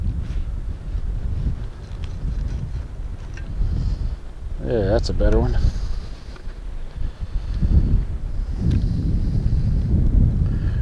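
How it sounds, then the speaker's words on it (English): Strong wind up to about 35 mph buffets a fishing boat on a windy bank, a constant low roaring rush against the microphone, with a short spoken remark partway through. "we have winds today up to about 35 miles an hour predicted"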